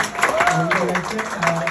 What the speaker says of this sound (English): let's give a huge round of applause to Madam Mayor on her victory